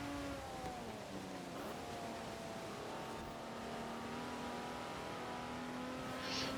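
A race car engine in a racing video game, a steady high whine whose pitch dips and climbs through gear changes and cornering, with a faint tire squeal near the end, under quiet background.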